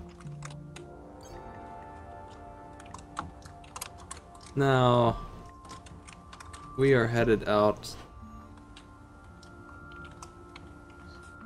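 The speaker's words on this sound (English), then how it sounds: "I think I should get a quieter keyboard." A noisy computer keyboard clatters with steady, fairly loud keystrokes during a Spore gaming session, nearby and continuous, broken by two short bursts of speech.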